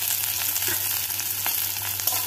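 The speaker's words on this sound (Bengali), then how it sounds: "কড়াইতে 3 টেবিল চামচ সাদা তেল গরম করে নিয়েছি। এবারে পেঁয়াজটাকে দিয়ে দিলাম।" Chopped onions dropped into three tablespoons of hot white oil in a wok give a steady, close, hissing fry throughout, with no voices over it.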